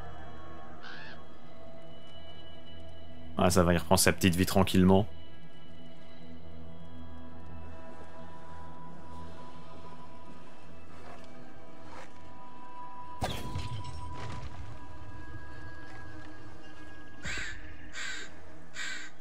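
A crow caws in a burst of several rapid harsh calls in the video game Assassin's Creed Valhalla, with faint game ambience and later clatter. Someone speaks briefly.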